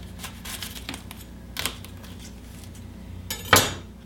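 Several crisp knife chops through the green leaves and stem of a cauliflower on a cutting board, irregular knocks with a sharper, louder strike near the end, close up and without talk.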